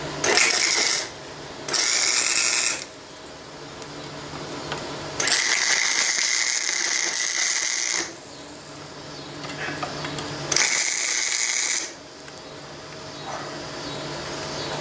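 Tack welding on metal pieces for a basic weld: four separate bursts of harsh, crackling arc noise, each lasting one to three seconds, with quieter gaps between them and no talking.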